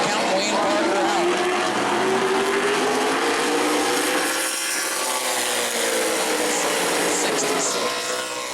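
Modified race cars roar continuously around the New Smyrna track late in a race, the engine note rising and falling as they pass, loud and close, with an announcer talking over it.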